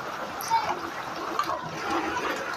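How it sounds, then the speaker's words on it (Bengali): Hot water poured into rice in a cooking pot, a continuous gurgling, splashing pour heard close at moderate volume, with small bubbling surges throughout. "গরম পানি অ্যাড করলাম যাতে ভাতটা নরম না হয়"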